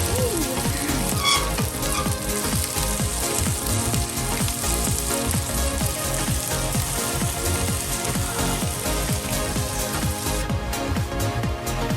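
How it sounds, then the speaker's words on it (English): Eggs frying in a pan for a rice topping, a loud, close, continuous sizzle with dense popping and crackling throughout, no voices. "So what we're doing now, some fried eggs for topping our rice."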